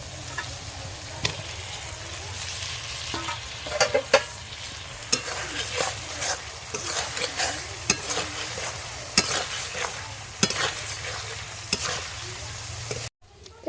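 Potatoes sizzle and fry in a pan of village-style pangash fish curry, with a steady hiss and frequent sharp scrapes and clanks from stirring, close and fairly loud.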